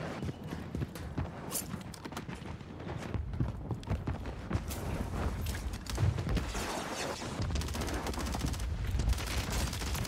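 Rapid, continuous gunfire in Call of Duty Warzone, dense overlapping shots and bursts running throughout at a fairly steady level.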